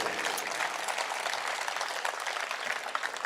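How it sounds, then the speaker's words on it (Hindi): A crowd at a Hindi poetry recital applauds loudly and continuously, a dense wash of clapping that holds steady without pause from start to finish. "तो एक बार जोर से तालियां उठाइएगा"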